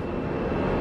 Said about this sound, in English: But look at how close this plane is.